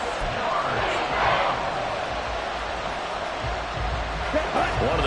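A football stadium crowd at a 49ers versus Dolphins game roars and cheers in a broad, sustained wash with swells, heard behind continuous close commentary.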